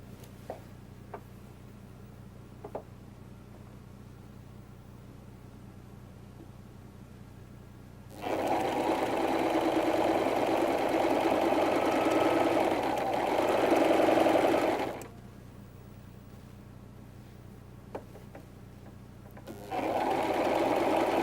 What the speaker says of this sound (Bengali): তারপরে আমরা মেশিনে ফাইনাল সেলাইতে যাব